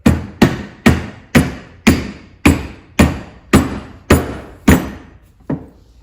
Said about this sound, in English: Let's try hitting that down with a rubber mallet and seeing what it does to move